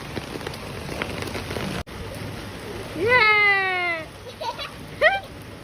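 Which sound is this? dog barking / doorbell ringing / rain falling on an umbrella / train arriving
rain falling on an umbrella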